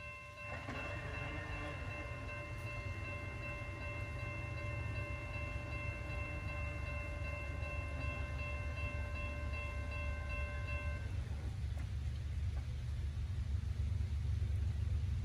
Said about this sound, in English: Our next train here at rainy Moody Town is northbound empty coal train